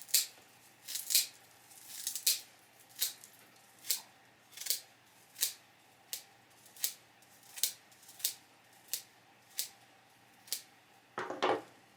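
Scissors trim a bundle of grouse tail feathers level on a handmade whisk broom, a steady series of about fifteen crisp, close snips in an even rhythm, ending with a brief rustle.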